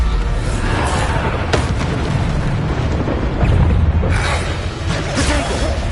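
Booming spell blasts from a Bombarda cast in the Hogwarts Legacy game on PS5, a dense and loud wash of rumbling explosions and whooshes that runs nearly continuously, with several bursts blending together.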